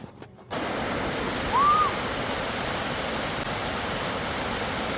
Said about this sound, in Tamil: வாட்டர் ஃபால்ஸ் ரொம்பவே அழகாக இருந்துச்சு